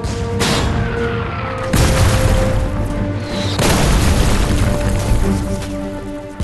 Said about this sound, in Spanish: los dos hombres fueron atacados con fuego de mortero